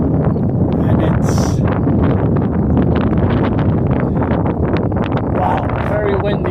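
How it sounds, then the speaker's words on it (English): Strong wind buffets the microphone at a scenic vista along the Mason Dixon Trail, a continuous loud roar with gusty rustling throughout and a person talking over it. "wow, very windy now"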